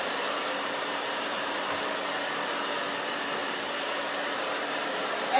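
A hair dryer blows steadily on a woman's short pixie cut, a loud, continuous airy roar that holds an even level from start to finish with no voices.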